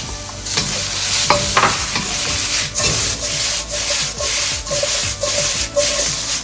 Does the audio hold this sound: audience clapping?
no